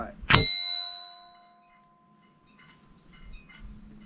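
A rifle bullet strikes an 8-inch steel gong with a single sharp metallic clang that rings on with a bright, slowly fading tone, followed by faint background noise.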